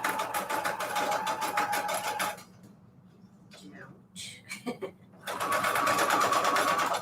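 A sewing machine stitches envelope pages for a junk journal with a loud, rapid mechanical whir. It stops midway while a person speaks briefly, then starts again at full speed.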